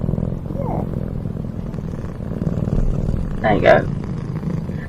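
A soft, continuous low rumbling purr from a Healing Kitty cat sound plays steadily under a nearby speaking voice, with a couple of brief higher tonal chirps over it.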